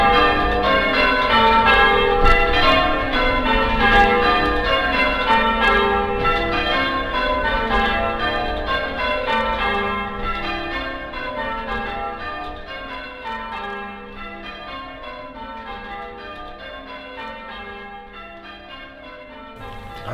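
Church bells rung by a team of bell ringers peal continuously in changing sequences, a loud, dense wash of overlapping bell strikes filling the whole stretch without pause.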